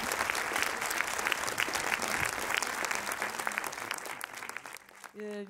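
An audience at a film festival Q&A gives the director loud, sustained applause that fills the hall before fading out, and a voice begins speaking at the end.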